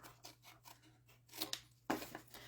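Scissors snip off the corner of scored cardstock for a treat box. A few quiet, close crisp cuts, with a sharper snip near the end, over a faint background hum.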